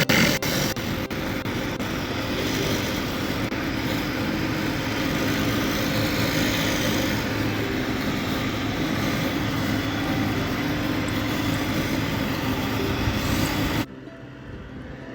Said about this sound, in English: the next step is to grab the surface cleaner